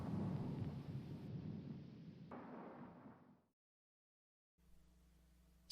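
A heavy roll of thunder rumbles loudly and fades over about three seconds, giving way to silence and then a faint low hum.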